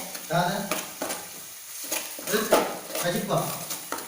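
Egg burji frying in a pan, with repeated close stirring scrapes and a light sizzle, while a person talks over much of it.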